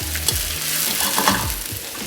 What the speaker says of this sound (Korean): 양파부터 볶아줄게요.